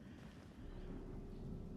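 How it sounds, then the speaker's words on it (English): Thunderstorm in a Diablo IV cutscene: low, continuous rumbling thunder over steady rain, filling the whole stretch at moderate level with no voices. "let's enjoy the storm a moment"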